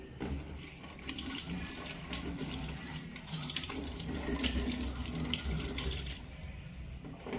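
Steady running water from a sink tap while hands are washed and scrubbed for aseptic technique, a continuous close splashing stream with slight variations as the hands move under it.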